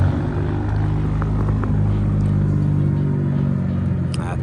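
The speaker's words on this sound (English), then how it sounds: "All right, so the Supra is leaving" Steady low rumble of a Toyota Supra's engine and exhaust as the car pulls away, a droning idle-to-cruise tone holding fairly loud and even throughout.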